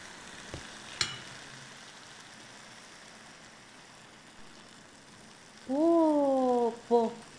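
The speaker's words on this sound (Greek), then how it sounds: "Και όπως είναι καυτά, τα σιροπιάζω με κρύο σιρόπι." Cold syrup poured onto hot, freshly baked saragli pastry with butter, cinnamon and nuts gives a steady soft sizzle and hiss, with a brief tonal voiced sound near the end.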